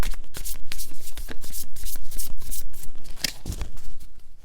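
Tarot cards are shuffled up close in rapid, crisp riffling bursts that repeat steadily, papery flicks and slaps following one another with no talk over them.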